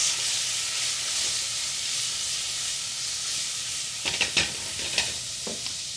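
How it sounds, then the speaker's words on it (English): Potatoes and vegetables for a gluten-free veggie pot pie are stirred in a pot with a spatula: a steady close sizzle, then a burst of several scraping, knocking strokes near the end. "I'm gonna grab my spatula and give it a nice little stir"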